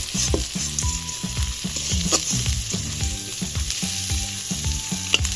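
Greens are stir-fried in oil with onion, garlic and a fish head, giving a loud, continuous sizzle broken by rhythmic scraping stirs, with faint tonal background music running underneath.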